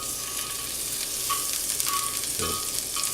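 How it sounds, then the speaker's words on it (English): Butter sizzles in a frying pan on the stove, a steady close hiss with a few faint clinks over the crackle. "Now I'm going to put just a little bit of this butter back on here."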